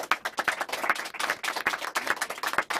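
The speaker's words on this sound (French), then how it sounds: "Je vais demander qu'on vous applaudisse." Small studio group claps for Aung San Suu Kyi during a France Inter radio interview, a brisk burst of hand claps lasting a few seconds, close and fairly dry.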